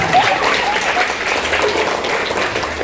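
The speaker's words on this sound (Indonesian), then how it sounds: "Tepuk tangan dulu untuk Gipari." Audience applause at a Maulid Nabi Muhammad SAW religious gathering, a steady, dense clapping from a crowd that holds at an even level throughout.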